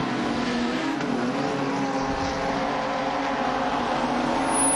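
Race cars lapping a speedway track roar steadily down the back straight, a continuous blended engine drone from a pack of cars at moderate distance.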